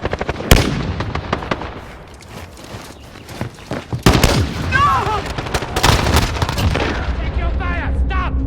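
Repeated gunshots from a Sykov automatic pistol and an MP5 submachine gun, sharp close cracks in irregular bursts and single shots, with echoing reports in between.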